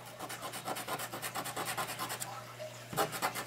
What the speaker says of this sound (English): Use an emery board. All you have to do is take your eraser on there